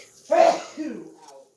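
A single short sneeze-like burst, fairly close and moderately loud, followed by a softer trailing vocal sound, with no speech during it.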